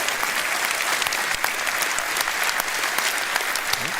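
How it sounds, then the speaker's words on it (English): Dense, loud applause from a political rally audience cheering young campaigners, sustained and even across the whole stretch with no voices standing out. "Give them a round of applause for doing such a great job."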